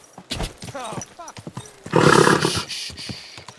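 Brief horse whinny, loud and close, rising around the midpoint after someone speaks calmly to the animal; talk comes before and after the neigh.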